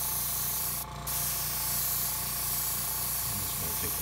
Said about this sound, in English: We got the compressor on and we're just gonna